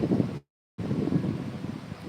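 Wind gusts outdoors beside a very large banyan tree on a hot, sunny day, a steady broadband rush with mic buffeting, briefly cut to silence mid-way before resuming.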